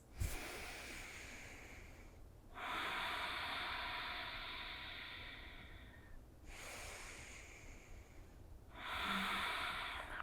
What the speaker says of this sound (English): Bastrika can be used in the morning when you have an intense day ahead